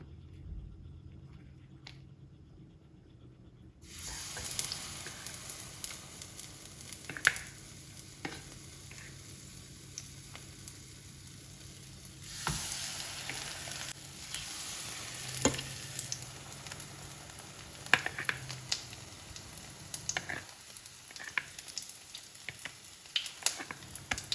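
Battered, breaded tomato slices fry in hot oil, a quiet start giving way to a steady crackling sizzle with occasional pops and light utensil clicks, fading briefly before resuming near the end.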